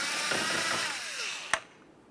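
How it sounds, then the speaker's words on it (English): A power tool whirs as it backs out 10mm-headed mounting bolts from the tail light assembly on a 2011-2020 Toyota Sienna, winding down in pitch and ending with a sharp metallic click, close up, no talking. "we're going to continue on to removing these two 10mm headed mounting bolts"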